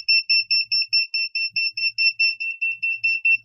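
A drone's lost-model alarm buzzer sounds as a rapid, steady train of shrill electronic beeps, loud and close, repeating evenly throughout without talking.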